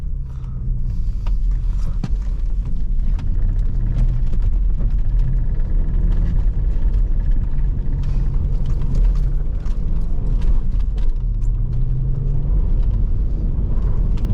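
Audi B5 S4 engine droning and rumbling loudly and steadily while driving in snow, with mechanical creaks and road rumble from the car throughout, no talking.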